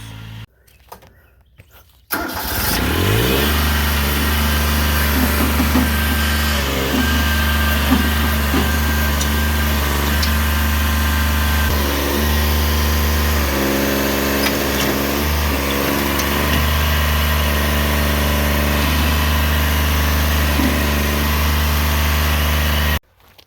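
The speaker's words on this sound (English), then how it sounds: "we're going to attempt to use the tractor, Ted, to dig using not a digger but the fork" Tractor engine running steadily while digging with its forks, a loud close diesel drone starting abruptly after a quiet moment and holding with slight load changes and clanks throughout.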